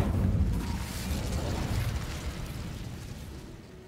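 An Incendio fire spell bursts in Hogwarts Legacy gameplay, a loud rumbling whoosh of flame that swells at once and then slowly fades over several seconds, heard alone.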